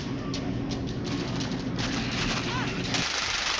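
Gunfire in the World War Z video game, New York chapter, with rapid bursts of shots rattling steadily across the moment, mixed with game voices.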